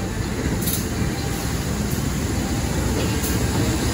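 Serayu Malam passenger train on the Jakarta Pasar Senen to Purwokerto route at a station, heard as a steady loud broadband rumble and roar of rolling cars that stays constant throughout, with no gaps and no voices.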